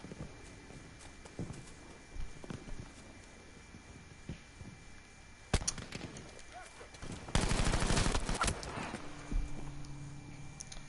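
Gunfire from a gun in the video game Battlefield V: scattered single shots, then a dense rapid burst of automatic fire, loud and close, with footsteps and movement noise around it.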